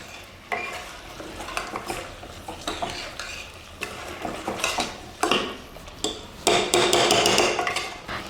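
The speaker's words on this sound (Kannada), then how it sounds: "ಇದನ್ನು ಚೆನ್ನಾಗಿ ಫ್ರೈ ಮಾಡೋಣ." Chicken chops fried in a pan with a spoonful of rock salt, giving a steady sizzle broken by clattering stirs and scrapes of a spoon against the pan, louder near the end.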